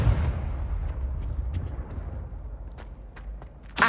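A fiery Confringo spell blast in the Hogwarts Legacy video game: a loud booming burst that fades into a long rumbling tail with scattered crackles, then another sharp blast at the very end.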